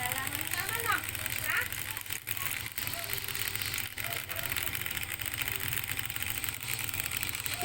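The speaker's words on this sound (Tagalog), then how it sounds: "i-switch on na natin yung motor" DIY free energy motor runs with a steady, dense mechanical whir and hum, continuous and fairly constant in level with a few brief dips.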